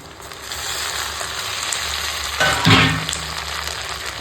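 Sliced onions and green chilies frying lightly in a pan give a steady, close sizzle, with a brief louder burst and scrape of stirring midway and no talking.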